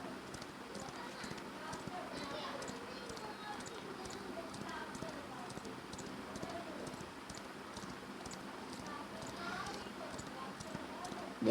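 A horse gallops in the BGMI mobile battle royale game with a steady, rapid clip-clop of hooves that continues at an even level for the whole stretch.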